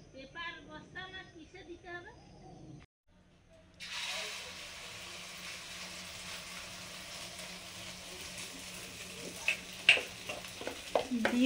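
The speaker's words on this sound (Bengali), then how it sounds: "ডিম আলু" A short voice is heard first, then after a brief pause egg and potato pieces start frying in a pan with a dense, steady sizzle, ending with a few clinking stirs near the end.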